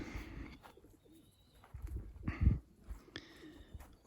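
Soft, low pigeon coos come in a few short bursts close by, with quiet gaps and faint rustling between them.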